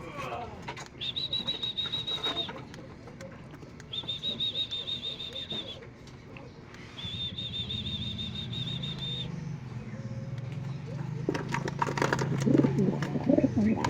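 Pigeons coo in repeated bursts close by, with wing flaps and rustling growing louder toward the end, faint voices in the background.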